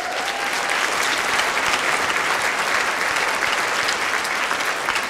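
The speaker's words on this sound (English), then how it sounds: "Give them a round of applause." Loud, sustained applause from the crowd at a natural bodybuilding show, dense clapping filling the hall evenly from start to finish with no talk over it.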